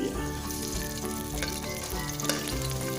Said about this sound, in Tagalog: At magigisa tayo, mga boss. Susunod natin luya.